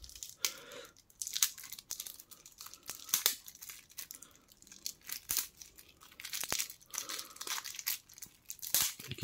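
Terraforming Mars board game expansion packaging being torn open by hand, with sharp, close crinkling and ripping of plastic wrap in irregular bursts and short pauses between them.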